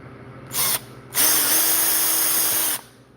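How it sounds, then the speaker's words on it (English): Two bursts of a power drill, one short and one longer and sustained, boring into material while building a robot, close and loud with a wavering motor whine. "I really can't see what I'm drilling"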